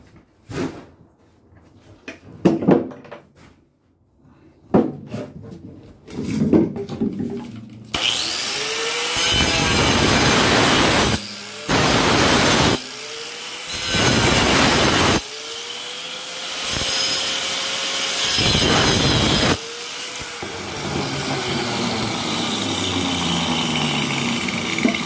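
Pipe being cut to length for a bathtub drain installation: a few scattered knocks and handling sounds, then long, loud, rhythmic sawing strokes with brief pauses between them.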